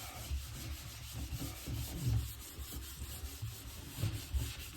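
3M Super Duty Rubbing Compound is worked by hand over a blended area of fiberglass, producing a soft, steady rubbing and scuffing with faint rhythmic strokes, close and quiet, with no voices.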